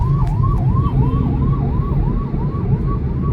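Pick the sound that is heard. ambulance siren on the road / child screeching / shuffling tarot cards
ambulance siren on the road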